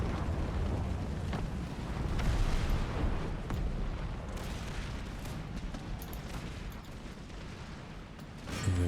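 Artillery guns fire on foot guards in Empire: Total War, a dense, continuous rumble of booms and blasts rolling on throughout, with a sharper burst near the end.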